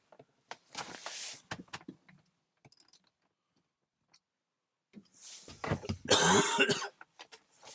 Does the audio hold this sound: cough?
yes